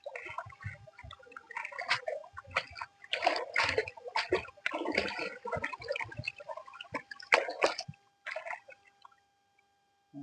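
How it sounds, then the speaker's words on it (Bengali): Fishing net washed in river water at night, a run of irregular close splashes, drips and sloshing over about eight seconds, fairly quiet, then fading to near silence. "জালটা ধুয়ে নিচ্ছি।"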